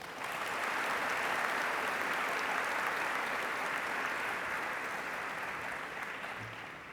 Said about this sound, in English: acknowledge the contribution of our teachers with a huge round of applause